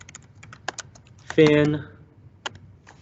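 Computer keyboard typing a part description, several sparse soft key clicks spread out, with a brief spoken word in the middle.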